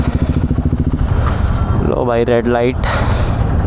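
A KTM Duke 390 gen 3 motorcycle engine runs while riding, a close, pulsing low thrum with a rising rev in the middle and wind noise. Someone speaks briefly over it.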